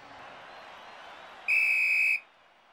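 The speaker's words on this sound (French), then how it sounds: "Et c'est le coup de sifflet final." A referee's final whistle ends a football match in an animated cartoon: a single loud, shrill blast held for under a second, cutting through a low crowd murmur.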